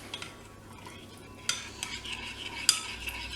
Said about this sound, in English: give it a good stir in